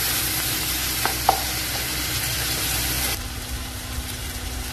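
Tomato-based masala for a chickpea channa masala gravy sizzles steadily in a hot pan, with a few sharp spatula scrapes and taps as it is stirred; no one speaks.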